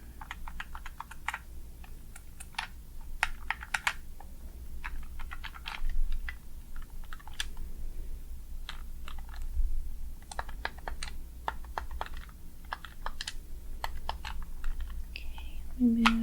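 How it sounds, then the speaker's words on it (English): Buttons on a plain silver keyboard are clicked one after another in quick, irregular taps, crisp and close, with faint soft speech in the background. "So let me just click all the buttons for you."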